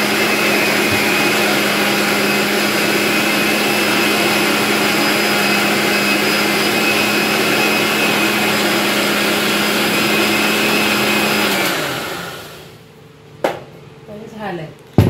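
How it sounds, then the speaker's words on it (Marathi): A kitchen mixer grinder whirs steadily at close range and full volume as it blends buttermilk with gram flour, holding one even drone for about twelve seconds before winding down and stopping, followed by a few light knocks. "आता हे परत मिक्सरला लावून घेणार आहे मम्मी"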